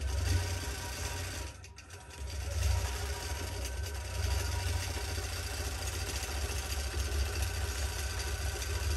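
A longarm quilting machine hums steadily while stitching, a continuous mechanical drone with a rapid rhythmic needle pulse, dipping briefly before running on evenly and close by.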